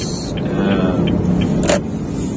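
A Honda Brio 1.2 hatchback accelerates, heard from inside the cabin as a steady, fairly loud engine and road drone, with a brief higher whine near the end.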